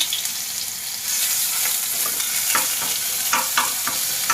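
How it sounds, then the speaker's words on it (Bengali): Garlic frying in hot oil for a mushroom curry: a quieter start gives way to a steady sizzle, punctuated by several sharp scrapes and knocks of a spoon stirring in the pan. "রসুন দিলাম"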